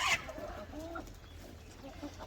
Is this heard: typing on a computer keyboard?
no